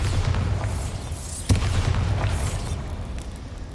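A Bombarda blast spell going off in Hogwarts Legacy, a sharp loud boom near the middle over a dense, steady rumble of game sound, with no talking.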